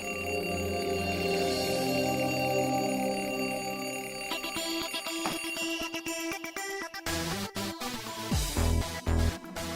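A ringing tone, like a morning alarm or phone ringtone, plays loudly and continuously, with a steady pattern early on that turns into choppier bursts toward the end.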